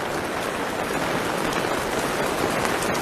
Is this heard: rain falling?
yes